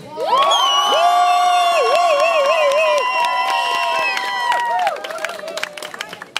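An audience cheers loudly for several seconds, with sustained, wavering shouts and whoops, then fades into scattered noise.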